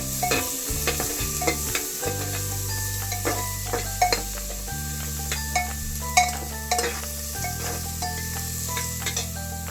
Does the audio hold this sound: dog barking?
no